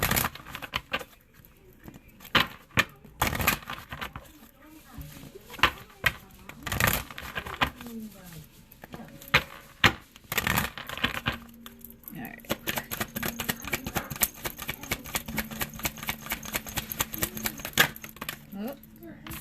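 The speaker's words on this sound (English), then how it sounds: "I'm going to pull 3 cards." Angel answer cards shuffled and pulled from a deck, giving quick papery riffles and flicks in short bursts, with a rapid patter of card handling near the end and a voice talking over much of it.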